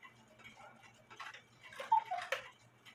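A 1968 E. Schmeckenbecher Farmers Daughter cuckoo clock under repair ticks in a steady, quiet rhythm, with a few soft clicks and knocks from handling in between.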